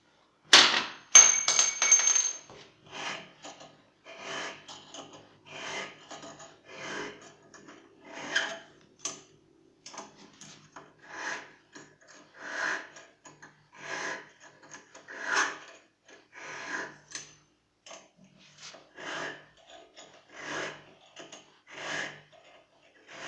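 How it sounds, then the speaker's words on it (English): Hand-turned 75-degree cutter shaving a valve seat in a GAZ 53 (ZMZ 511) cylinder head, heard as a steady train of short, soft scraping strokes repeating about once a second, with a few sharper metallic clicks at the start. "Now I'm going to cut with the 75-degree cutter."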